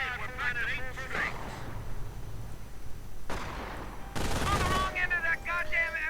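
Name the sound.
machine gun squad firing in a video game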